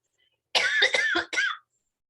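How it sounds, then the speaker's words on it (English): A person coughs and clears their throat in a quick burst of rough, harsh sounds lasting about a second, close and alone in silence. "At least I waited for the end to start coughing."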